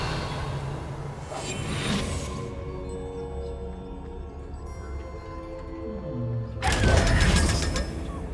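Magical Revelio spell cast in the video game Hogwarts Legacy, a swooshing burst followed by a shimmering, ringing tonal sweep and a second loud whoosh near the end.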